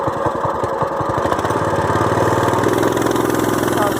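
A CT200 minibike engine, just pull-started with the choke off, settles into a steady, loud, close idle with an even putting pulse and a slightly rough, cold-running edge.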